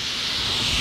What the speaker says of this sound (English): But quite often we end up with a lot of sandblasting noise.